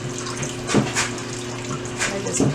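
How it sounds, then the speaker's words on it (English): Water runs steadily from a kitchen tap over tomatoes, a continuous close splashing hiss with small shifts as the stream strikes the fruit. "we're going to turn the water on"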